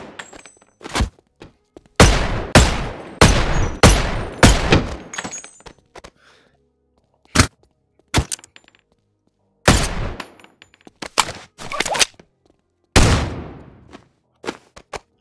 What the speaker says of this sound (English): I just shot him twice in the face.